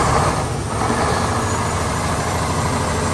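A 2007 Mack CHN613 truck diesel engine runs steadily on a frigid Iowa day, a loud, close, rumbling drone with constant low throb and no variation in pace.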